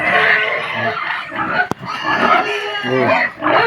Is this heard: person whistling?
no